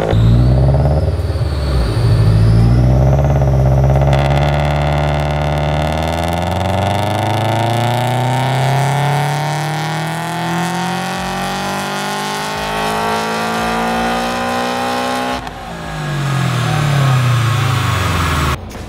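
A tuned car engine on a Dyno Dynamics dyno pulls hard and loud, its tone climbing steadily through a long wide-open run before dropping off sharply near the end and briefly revving again.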